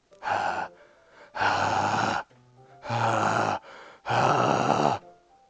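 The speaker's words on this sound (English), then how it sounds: "It sounds like breathing. A sharp inhale, like someone is sucking the air through their teeth." Four loud, harsh breathing sounds in the video game Doki Doki Literature Club, drawn sharply as though through the teeth, each lasting under a second and separated by quieter raspy breaths in an uneven rhythm.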